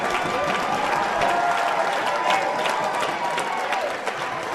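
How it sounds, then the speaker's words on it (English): Basketball crowd at an NCAA Division III quarterfinal between Babson and Keene State applauds as a player heads to the bench, steady clapping and crowd noise filling the arena at a constant level with a few sharper claps standing out. "he gets a loud round of applause from the Beaver fans present."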